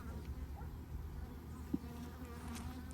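Bees buzz at a beehive on a bee farm, a continuous soft low drone of many insects outdoors, fairly faint, with a small tap partway through and no talking.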